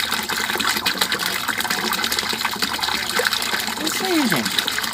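Water discharge gushes into a tank of large tilapia, a steady broadband rush of splashing and pouring that continues throughout at moderate loudness.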